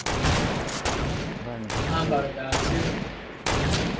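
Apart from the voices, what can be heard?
sniper rifle gunfire in a video game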